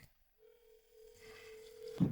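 A phone ringback tone on an outgoing call, a single steady faint tone held for over a second, followed by rising room noise and a brief louder sound at the end.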